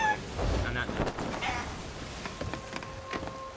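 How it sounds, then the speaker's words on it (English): A chicken squawks and clucks in the Sea of Thieves pirate game, a few sharp cries near the start that fade into busy game sounds, with steady ambient noise throughout. "Why is the chicken crying out loud?"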